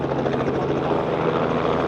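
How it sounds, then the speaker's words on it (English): A helicopter comes in to land near Oslo, its dense rotor chop and engine roar loud and close, pulsing steadily through the whole stretch with no one talking. "There's a helicopter coming in to land."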